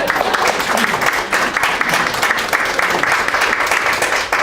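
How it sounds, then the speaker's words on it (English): An audience applauds panelists at a university diversity and inclusion event, steady dense clapping filling the room at a constant level throughout, with no voices rising above it. "another round of applause for our panelists."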